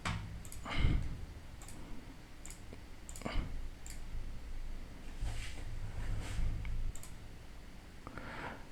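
A computer mouse clicks several times in Postman, with sparse, sharp clicks spaced a second or two apart over a quiet room background.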